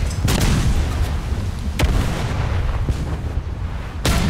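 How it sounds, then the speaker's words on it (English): Naval gunfire from a World of Warships battle as the Hood's shells fire and strike home: loud booming reports at the start, near 1.8 s and at the end, over a constant rumbling battle background. "Shells hit where I want them to. Detonation."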